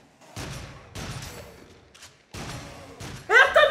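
Bursts of gunfire in the PlayStation VR game Until Dawn in short volleys separated by brief pauses, ending in a brighter electronic effect.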